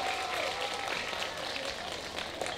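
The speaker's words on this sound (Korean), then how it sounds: "여러분들 다시 한번 뜨거운 박수를 부탁을 드리겠습니다." An audience claps in sustained, moderately loud applause, heard from within the crowd at an outdoor youth dance contest during a spring flower festival at Taehwagang National Garden.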